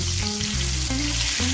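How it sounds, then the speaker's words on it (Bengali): A brief, steady sizzle of soft bhetki fish frying in hot oil in a pan, up close and even throughout, over a low background hum. "তাহলে মাছ ভাজার সময় তেল ছিটে আসবে না"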